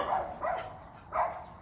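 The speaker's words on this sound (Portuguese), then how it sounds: "Pior, um cão, dois cães aqui soltos." Dogs bark three times in quick succession, two close together then one more after a short pause, fairly loud and close, with no talk over them.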